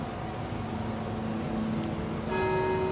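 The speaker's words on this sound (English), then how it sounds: "The cable you see here is connected to the bell, which is in the next floor up above us" A tower bell rung by pulling a cable strikes once near the end, its clear metallic tone ringing out and sustaining over a low, steady background rumble.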